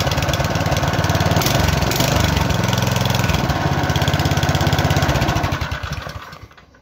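A single-stage snowblower's small engine runs loud and steady right up close, idling with a throbbing, even rhythm before fading toward the end.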